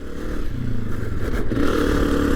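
A 2022 Honda CRF250F dirt bike engine runs loud and close with a rough, throbbing idle that rises into a rev, with clattery mechanical noise and no talking.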